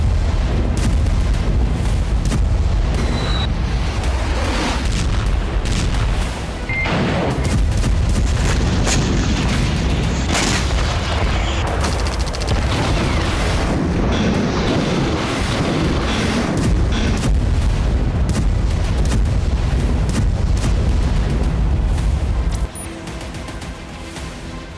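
Rocket strikes and explosions at night in northern Israel, loud dense booms and crashes rolling over one another almost without pause, then dropping away suddenly near the end.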